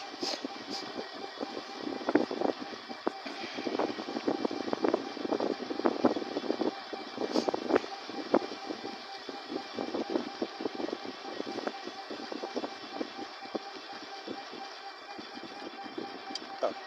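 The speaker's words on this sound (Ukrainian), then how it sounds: "Тоді з'їду там зараз з гори, побачу, як він під горку їде" Homemade 350 W electric scooter riding down a hill outdoors, a steady whirring motor hum under rushing wind and road rumble, with scattered rattles and knocks throughout and no talk.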